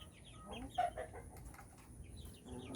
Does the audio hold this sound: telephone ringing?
no